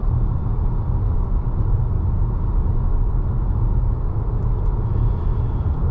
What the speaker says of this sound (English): I'm hearing a small hum of the tire noise, and the wind noise is almost non-existent.